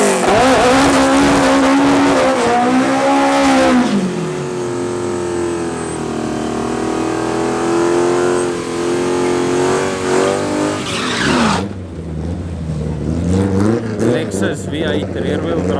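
A nitrous-fed V8 rear-wheel-drive automatic Mustang and a naturally aspirated front-wheel-drive Opel drag race at Tarlton International Raceway, engines loud and close as they rev and climb through the gears, with a tire squeal partway through.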